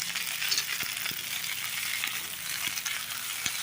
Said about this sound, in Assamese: এতিয়া চব্জিখিনি ভালকৈ ভাজি ল'ম।